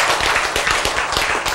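Church congregation applauding during a sermon, a dense, steady clapping of many hands, close and fairly loud, with no talk over it.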